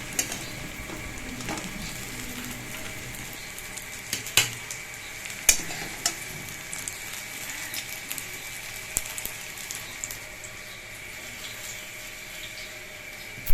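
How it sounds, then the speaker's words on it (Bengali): Marinated chicken frying with fried onions for a dhaba-style hariyali chicken curry, a steady close sizzle with scattered spatula clicks and scrapes against the pan, no one speaking. "অর্ধেক পেঁয়াজের মধ্যে ম্যারিনেট করা চিকেনটা দিয়ে দিচ্ছি"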